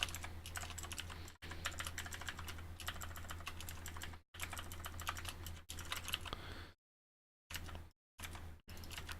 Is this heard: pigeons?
no